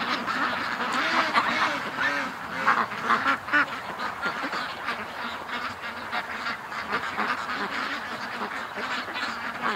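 A flock of ducks quacking continuously and close by, overlapping calls in a busy, uneven chorus with goose-like honks mixed in.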